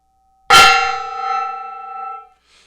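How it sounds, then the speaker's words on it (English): A single gong strike in a quiet room, a sharp loud onset followed by a long shimmering metallic ring that slowly decays over about two seconds, with no talk. "I'm going to hit this gong and then I will respond."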